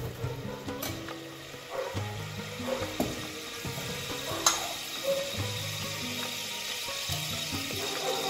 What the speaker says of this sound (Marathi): त्यासाठी मी आता 4 चमचे तेल टाकून घेणार आहे।